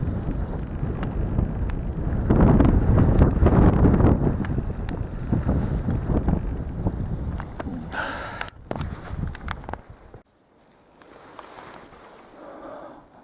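Strong wind gusting over a lake with rough waves, heavy buffeting roar on the microphone that swells and dips, then drops to a quieter rush near the end.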